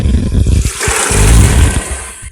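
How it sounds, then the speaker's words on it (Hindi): Soaked chickpeas tipped with water into a cooking pot of fried spices for chole, a loud rushing splash and pour that swells in the middle and trails off, with no talking. "पानी के साथ ही हमने छोले ऐड कर दिए हैं।"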